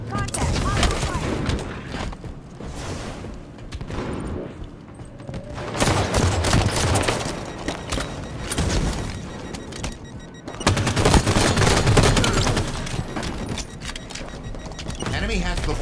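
Video game gunfire in an assault match: rapid bursts of automatic fire crackle in waves over roughly sixteen seconds, with louder stretches of sustained shooting alternating with brief lulls.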